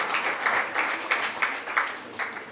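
Audience applause for Uganda's new minister for tourism, wildlife and antiquities, rising and falling in short pulses of clapping heard at moderate volume through a hall.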